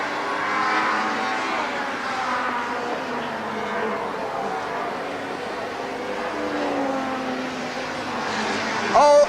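Touring cars from the 1995 ITC field race through Redgate corner at Donington, engines droning steadily at a distance under a continuous crowd-and-commentary wash, with a brief louder burst near the end.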